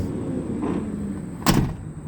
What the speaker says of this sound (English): My door opens and closes correctly.